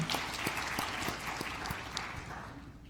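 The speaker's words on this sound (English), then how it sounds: "Round of applause." A room full of people at a competition event claps steadily for a few seconds, the applause fading slightly toward the end.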